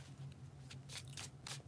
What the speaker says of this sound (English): we're going to do 3 more shuffles.